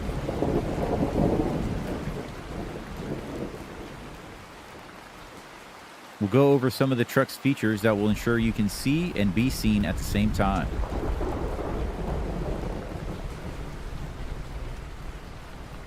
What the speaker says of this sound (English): Oh shit, we got rain.